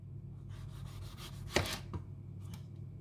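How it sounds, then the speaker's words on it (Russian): A few soft knife cuts on a board slicing cucumbers into ovals about half a centimetre thick, one crisper slice standing out midway, close and quiet with no voices. "Огурцы нарезаю овалами толщиной примерно полсантиметра."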